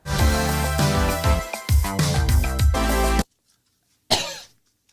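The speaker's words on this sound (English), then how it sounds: "How am I coughing?" A burst of rapid, harsh coughing, several hacks in quick succession, then a pause and one more loud cough.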